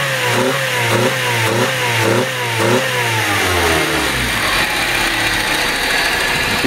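A Honda Domani's D15B engine revs repeatedly in quick, rising bursts, then climbs into one long, loud rev that holds at a high roar.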